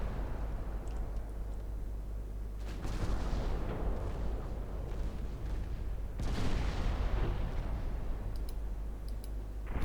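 5.9-inch naval guns firing in Ultimate Admirals Dreadnoughts, distant muffled booms recurring at intervals over a steady low sea-and-engine drone, each shot a soft thud with a brief rolling tail.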